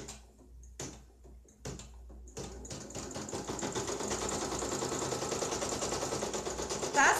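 A Brother PE810L embroidery machine stitches an appliqué: a few clicks and handling sounds come first, then the machine settles into a steady, fast, even rhythmic hum of stitching close by.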